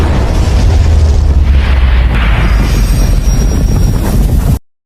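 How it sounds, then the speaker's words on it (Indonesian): A big animated explosion from a fire lotus technique booms out loudly, with a deep rumbling blast that roars and sustains for several seconds before cutting off abruptly. "Sebuah ledakan besar"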